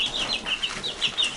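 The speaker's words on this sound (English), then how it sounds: "Come see the chickens." Chickens clucking in short, repeated high calls at a steady pace, moderately close, in an outdoor setting with growing chicks, with no talking.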